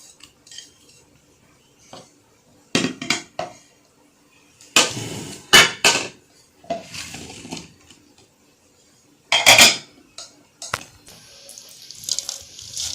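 Chopped vegetables for vinegar pickle (sirke wala achar) are tipped and mixed in a large metal vessel, with irregular clanks, scrapes and clatters in bursts between quieter gaps, close by.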